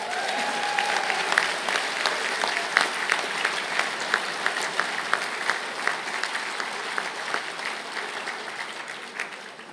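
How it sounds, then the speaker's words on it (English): Sustained applause from a graduation conferring audience at ATU Galway, dense steady clapping with a few louder claps standing out, continuing evenly for about ten seconds without speech. "I think that deserves a round of applause."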